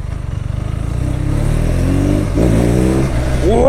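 A 2022 BMW R nineT Pure motorcycle engine idles with a fast, loud, close pulsing throb, then revs up in rising sweeps, dipping and climbing again before a final sharp rev at the end.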